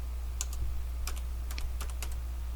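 Quick keystrokes on a computer keyboard entering a command into the Fallout 4 console, several short clicking bursts in uneven rhythm over a steady low hum, close and fairly quiet.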